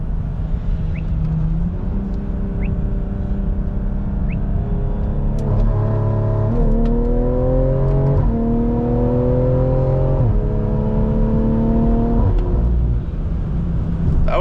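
A 900 hp BMW E92 pulls hard under acceleration, its loud engine note climbing through several gear shifts in a steady, sustained roar heard from inside the car, with no talk over it.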